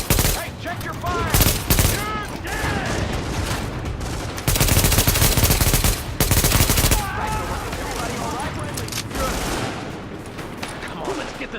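Dense automatic and rapid gunfire from The Division, with bursts overlapping into a sustained fusillade, loud and close, with voices shouting over the shooting.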